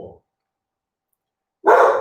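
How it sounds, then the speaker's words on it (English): A dog barks once up close near the end of a short stretch, after a brief burst at the start and a long silence in between. "pardon my dog"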